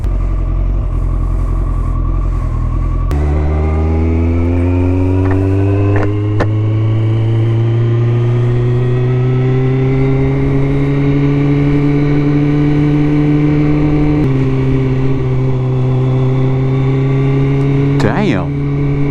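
A Kawasaki ZX14 motorcycle engine runs loud and close throughout, its note rising steadily as it revs, with a sharp pop near the middle and a cluster of crackling bangs toward the end.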